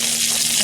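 A frozen fish fillet fries at a lakeside campsite by a campfire. A loud, dense, continuous sizzle and crackle of hot oil fills the whole moment, with no voices.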